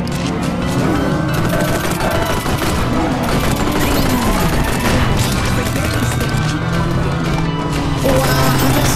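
Dense, constant gunfire and explosions in the VR game RUNNER, a futuristic motorbike shooter on Meta Quest 2. The loud battle din keeps on without a break under a steady whirring engine and sweeping tones.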